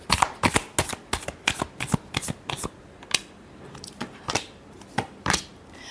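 Tarot cards being shuffled by hand, close up: a quick run of crisp riffling bursts in a fairly regular rhythm, a short pause, then several more shuffles, with no talking.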